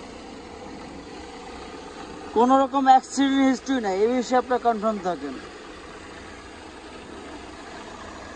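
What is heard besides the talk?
Toyota Axio car engine idling, BBTI engine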